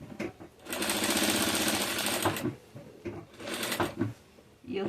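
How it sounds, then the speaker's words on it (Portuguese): A domestic sewing machine stitches thin fabric with a decorative piping foot, a steady rapid whir lasting over a second, then shorter bursts with clicks and handling noises in between. "Eu venho costurando pra dentro do meu risco."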